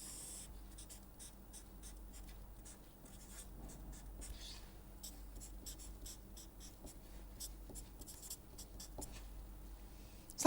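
Pen strokes on a writing surface as a lecturer sketches a diagram of overlapping dotted and solid function curves, a faint, scattered series of short scratches over a low steady room hum, with no talking.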